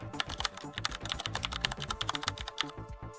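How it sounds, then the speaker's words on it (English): Rapid, irregular clacking of keys on a computer keyboard as keywords are typed, close and fairly quiet, a steady stream of individual keystrokes with no talk. "You set them up excited typing in keywords like AI"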